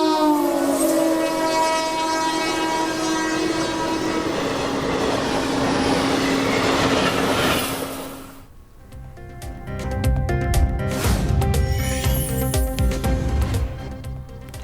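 A high-speed test train running at 90 to 120 km/h roars past with a loud, sustained rumble and horn tones, then clattering wheels and metallic rattling as it continues.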